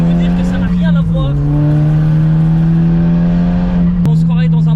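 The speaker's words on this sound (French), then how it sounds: "elle crache des flammes cette WRC les amis" A 370 hp VW Polo R WRC rally car engine holds a loud, steady droning note close by, with short pitch dips and a sharp crack near the end, as the exhaust spits flames; a voice talks over it.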